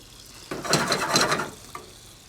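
Lobster carcasses, onion and garlic sautéing in a pan, a brief stirring swish and sizzle rising for about a second over quiet kitchen ambience, with a small clink afterward.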